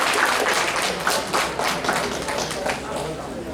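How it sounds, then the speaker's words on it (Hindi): An audience at a university poetry event claps, a loud, sustained round of applause with scattered taps and a voice speaking over it. "तो प्लीज एक बार जीएलए क्लब के लिए बहुत जोरदार तालियां।"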